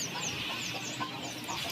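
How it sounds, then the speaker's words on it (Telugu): Hens clucking softly on a rooftop where chicks are raised, brief low calls against a constant background hiss. "మీకు నేను పెంచే కోడి పిల్లని చూపిస్తాను చూడండి."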